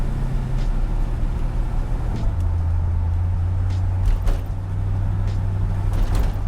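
A 1980 Chevrolet Corvette in Sunburst yellow rolls over bumps, its engine a steady low rumble with a few soft thumps and rattles from the suspension, all close and continuous.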